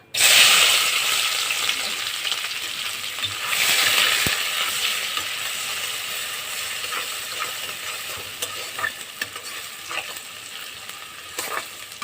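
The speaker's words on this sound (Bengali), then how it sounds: "বাকি বড়াগুলো এরকম করে ভেজে নেব।" Fish roe fritters fry in hot oil with a dense, continuous sizzle and crackle that begins abruptly, rises briefly, then settles to a steady hiss with faint scraping, close and alone.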